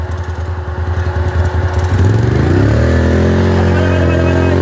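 Quad bike engine on sand dunes, idling with a pulsing chug before revving up hard into a loud, sustained roar as it accelerates away, close to the listener.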